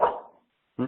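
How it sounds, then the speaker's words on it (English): A pet dog barks twice, close and fairly loud, with the first bark tailing off before a short gap and a second sharp bark. "That's my dog."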